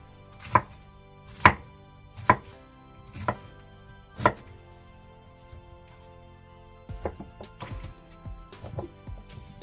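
Knife chopping pineapple into small pieces on a board: five sharp, evenly spaced chops, followed by a rapid run of lighter cuts, close and without speech.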